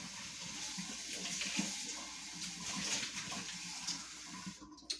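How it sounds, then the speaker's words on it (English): Water pouring for a drink during an outdoor grilling of steaks and beef ribs, a steady soft trickle and splash heard at moderate distance with faint background ambience. "I'm going to get me a little bit of water."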